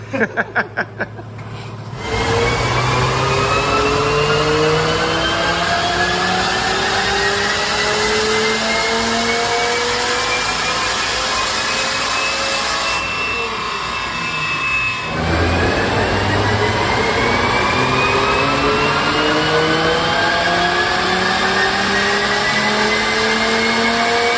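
Volvo race car engine revving hard on a dyno, a loud sustained climb in pitch through the gears, a brief dip near the middle, then rising again, all close.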